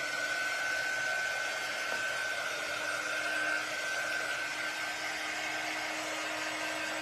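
A hair dryer blows steadily to dry paint on a wooden door hanger, a continuous close whirring hiss with a fixed whine that holds level for the full length, with no talking over it.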